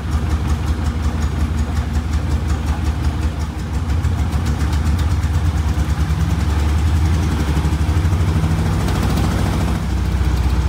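A 1962 Austin Healey Sprite Mark II engine runs steadily at idle, a loud rhythmic chugging with mechanical knocking that holds throughout.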